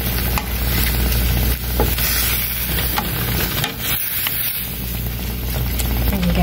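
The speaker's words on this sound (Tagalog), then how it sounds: "Haluin lang natin siya." Sweet laddo mixture is stirred in a pan, a dense continuous sizzling hiss with soft scraping underneath, loud and close and steady for the whole stretch, with no speech heard.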